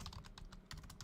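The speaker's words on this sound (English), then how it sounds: "you can't see what I'm typing" Typing on a computer keyboard, a quick, uneven run of soft key clicks close by and quiet.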